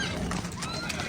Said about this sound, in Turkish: Atlar var.